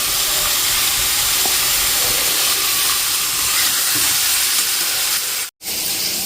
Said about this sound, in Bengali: চলো আলু ফুলকপিটাকে ভেজে নিই একটুখানি লাল লাল করে